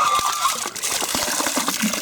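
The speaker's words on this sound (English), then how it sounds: "Actually operating pump." An old hand-operated water pump at a small Buddhist temple in Shimizu, Japan, gushes water in a steady, splashing stream, with faint creaks and knocks from the pump mixed in.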